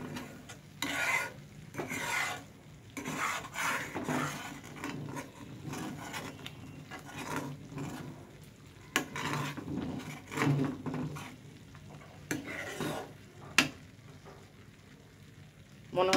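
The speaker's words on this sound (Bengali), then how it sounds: "আমি এখন জাল দিয়ে বারবার নাড়তে থাকবো" Milk cream being stirred repeatedly with a ladle in a pan over heat while it renders into ghee, giving soft scraping and rubbing strokes with a faint simmering sizzle, close and steady with a few sharper knocks.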